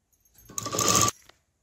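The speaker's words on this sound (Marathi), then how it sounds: "मी आता इथून अस्तर आणि हे मेन फॅब्रिक अटॅच करून घेते एक शिलाई मारून" A sewing machine runs one short stitching burst, joining the lining to the main fabric of a pleated lehenga. The whirring run is close and fairly loud, lasts about half a second, and has quiet handling noise before and after it.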